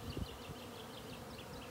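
Bees swarm and buzz around the outside of a hive in a continuous, dense drone, with a few louder passes close by.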